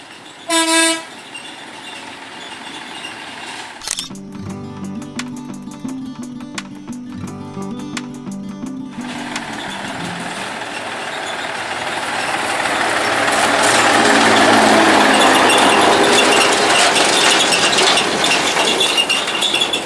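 Sugar cane railway locomotive number 7 running: a loud horn-like toot, then a steady tonal engine drone that gives way to a rising rumble of the train passing close by.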